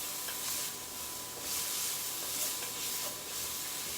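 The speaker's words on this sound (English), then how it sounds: "I just want to get my onions to get a little soft without browning too terribly much" Onions soften in a hot pan on a low burner, giving a faint, hissing sizzle that swells and fades in gentle waves, with no talking.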